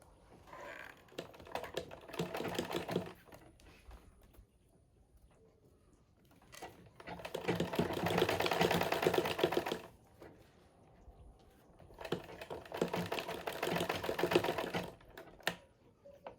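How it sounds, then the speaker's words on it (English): A sewing machine stitching fabric down along a bodice neckline, heard as three separate bursts of rapid steady whirring and needle chatter with quiet gaps between them. "So I'm turning it over to sew it down to keep it in place."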